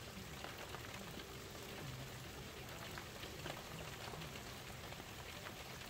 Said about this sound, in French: Écoutez-moi ça, ça pleut.